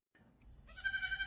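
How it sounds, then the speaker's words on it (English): Baby goats bleating: after a brief quiet start, a faint cry rises into a loud, bright, sustained bleat close by. "I love little baby goats"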